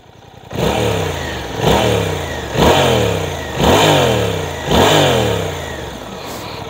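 A 2023 Suzuki GSX-8S ABS motorcycle engine is revved repeatedly, five sharp throttle blips rising and falling in a steady rhythm, loud and close with no talking over it.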